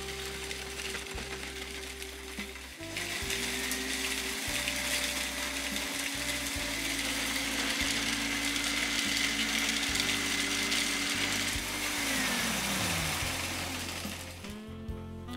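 A grinding machine mills dried chilies into powder, running steadily with a loud whirring drone and rattling after a short start-up, then winding down near the end.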